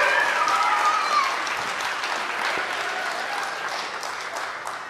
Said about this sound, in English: Can we give another round of applause for our kids?